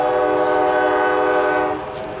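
Passing train sounding a loud sustained horn, close and strong, fading slightly toward the end with rumble beneath.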